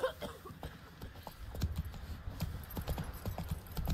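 Horse hooves gallop in Witcher III, a steady rapid clip-clop rhythm of thudding beats running continuously and fairly close, with no talk over it.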